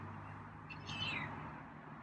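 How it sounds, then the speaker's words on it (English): A feral cat gives one faint, rising meow midway through a quiet, low-humming indoor background near a door threshold. "So starting to get a little louder with meows."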